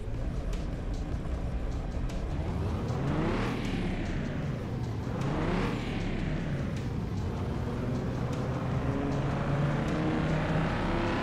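A Nissan 370Z engine in Car Mechanic Simulator 2021 revs up and down in two rising sweeps over a steady drone, loud and continuous, with no talking.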